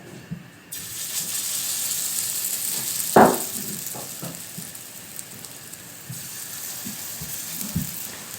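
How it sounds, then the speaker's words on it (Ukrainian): Steady sizzling of pea and onion patties frying in sunflower oil over low-medium heat, a soft continuous crackle with a brief louder pop partway through. "Смажимо наші котлети на середньому такому маленькому вогні"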